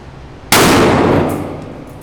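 Buckshot fired from the first barrel of a shotgun, a single sharp, loud blast whose ringing tail fades slowly over about a second and a half.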